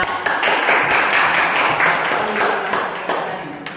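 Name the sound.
applause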